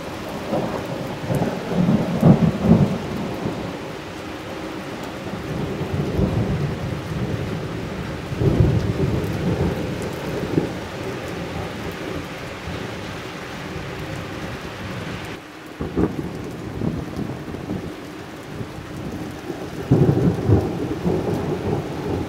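Thunderstorm with intensive hail over Jelgava, a steady roar of hail and heavy rain drumming on surfaces with repeated low rumbles of thunder swelling and fading throughout, no voices.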